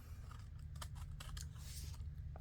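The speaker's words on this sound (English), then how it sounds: "we'll cut our tag top" Scissors cutting the top of a thick, damp paper tag, a few close crisp snips in quick succession, quiet and alone.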